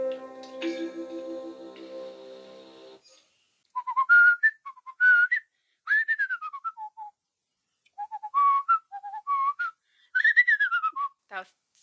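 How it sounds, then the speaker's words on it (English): A person whistles a wandering tune in short melodic phrases with brief pauses between them, clear and close, preceded by a few seconds of unrelated game music. "I shouldn't whistle. But it's fun."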